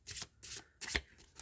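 Oracle cards being shuffled by hand, three quick riffling bursts close up at a soft level, with no talk.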